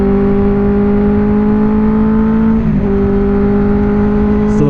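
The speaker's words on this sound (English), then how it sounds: "So the bike sounds super good." A 2017 Benelli TNT 600 four-cylinder motorcycle engine runs as a loud, steady, close drone, with a brief dip in pitch partway through before it settles back.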